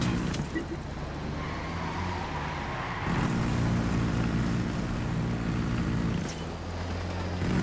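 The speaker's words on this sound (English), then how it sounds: "Helicopter? Yeah." Helicopter in the video game Ghost Recon Wildlands, a steady low rotor drone and engine hum that thickens and grows louder midway, holding under faint background game sounds with no clear talk.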